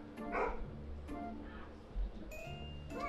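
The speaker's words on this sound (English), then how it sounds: "Oh, they got dogs," Dogs bark from a house during Halloween trick-or-treating, giving four separate barks spaced roughly a second apart. They sound fairly faint and somewhat distant, mixed with a little background voice.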